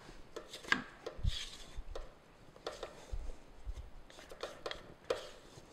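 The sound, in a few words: stirring chocolate crinkle cookie dough by hand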